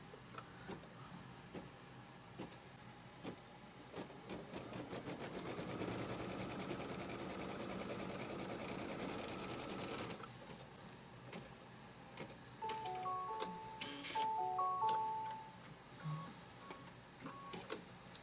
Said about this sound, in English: I'm going to put the foot down and we're going to tack down this fabric